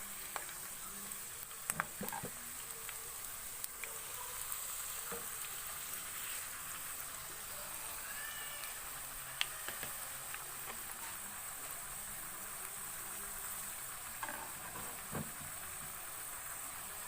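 Flower-shaped snacks deep frying in hot oil in a pan, a quiet, steady sizzle and bubbling hiss with occasional faint clicks, heard alone.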